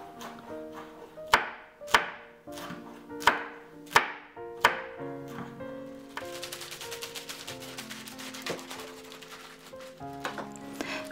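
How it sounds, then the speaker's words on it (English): A knife slices green chili on a cutting board, striking in about seven sharp, evenly spaced chops that fade into a run of quicker, lighter taps, all over soft background music. "Slice 2 green chili."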